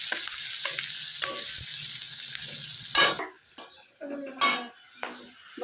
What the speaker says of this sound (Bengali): আমি এর মধ্যে একটুখানি হলুদ দিয়ে ভেজে নিচ্ছি